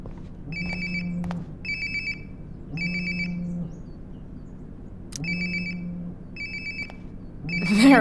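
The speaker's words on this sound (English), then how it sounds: "Sounds like my phone is definitely nearby." Mobile phone ringing nearby in the video game Life is Strange: Before the Storm, a clear electronic ringtone repeating in regular bursts over a soft low hum, loud and close, with no talk.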